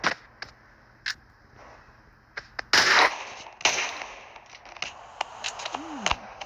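Gunshots fired at a zombie in a melon-versus-zombie skit, heard as scattered sharp cracks, a few louder bursts and a longer noisy blast near the middle, with no talking.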